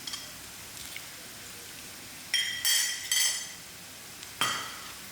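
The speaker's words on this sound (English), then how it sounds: "I add in my dry chillies and my jeera and my mustard seeds to fry till it's done" Onions with dry chillies, jeera and mustard seeds fry in a pan with a soft steady sizzle, broken by a few sharp close clinks and scrapes of a spoon against the metal.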